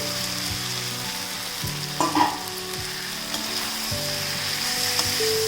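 Steady frying sizzle from a pan as boiled potatoes are fried, with a few scraping stirs and a brief clatter midway as the potatoes are tossed in.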